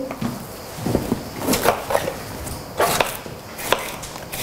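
A knife chops bell pepper on a cutting board in quick, irregular strokes at close range, with soft kitchen clatter between the cuts.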